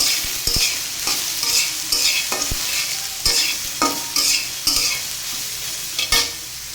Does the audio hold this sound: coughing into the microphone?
no